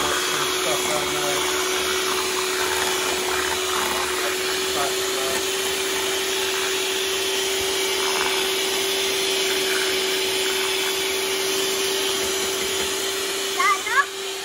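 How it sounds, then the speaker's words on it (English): An electric whisk whirs steadily in Yorkshire pudding batter, a constant mid-pitched motor drone that runs unbroken through the clip, with faint voices of children in the background. "Make sure you get it all whisked up."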